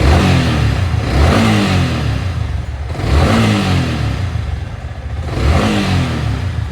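A Yamaha R15 v3 motorcycle engine, freshly given a master service, revs up and falls back three times in a steady rhythm, loud and close.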